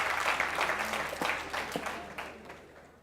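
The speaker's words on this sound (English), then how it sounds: "A huge round of applause for him" Audience applause at a TEDx event, a dense wash of clapping that holds steady and then slowly fades, filling the room without any talk over it.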